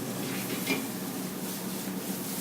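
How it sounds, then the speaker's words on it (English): Steady hiss and crackle of chopped green and red onion sizzling in a hot pan, with a faint scrape of stirring partway through. "Give that a little bit of sizzle."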